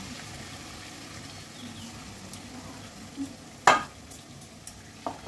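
Spices are stirred into fried chicken leg pieces in a pan over low heat, a faint steady sizzle with a few soft stirring scrapes and one louder clack partway through.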